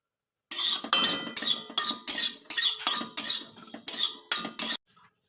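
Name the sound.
stirring whole cumin seeds dry-roasting in a kadai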